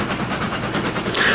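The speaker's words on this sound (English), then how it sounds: "The train's too loud?" A train runs in the Railroads Online video game, a steady, loud rumbling hum with a faint rhythmic clatter that holds for a short stretch without any voice.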